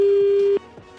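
A steady electronic phone tone holds for about half a second, then cuts off abruptly, leaving faint background noise.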